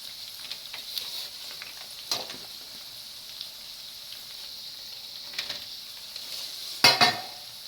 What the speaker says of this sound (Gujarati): ભીંડા આપણે સરસ ફ્રાય થઈ ગયા છે